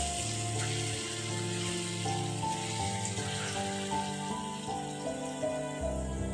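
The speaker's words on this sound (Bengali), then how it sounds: "এইভাবে আমি বড়াগুলোকে প্রথমে ভেজে নেব।" Small ridge gourd and poppy-seed fritters fry in oil over a lowered gas flame, giving a soft, continuous bubbling sizzle at moderate level with no talking.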